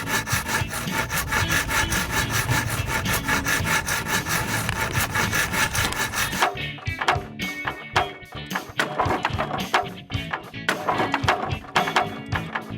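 Cartoon wood sawing by hand, loud and continuous rasping back-and-forth strokes that shift partway through into sharper, more spaced rhythmic cuts.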